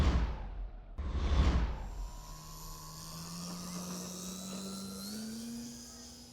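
A Timber X radio-controlled plane running on a HobbyKing 3300mAh 4S battery flies past in windy conditions: a loud whooshing pass up close, then a steady motor whine that rises slowly in pitch as it carries on into the distance.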